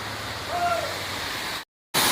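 Constant rushing of a stream on the way to Mullayanagiri near Chikmagalur fills the scene, briefly cut by a moment of silence before the rush resumes.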